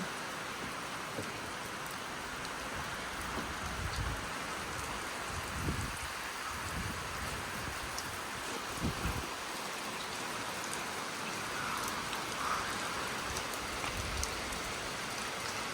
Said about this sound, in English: the rain is starting to rain sideways